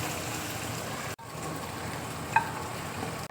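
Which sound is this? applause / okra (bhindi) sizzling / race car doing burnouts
okra (bhindi) sizzling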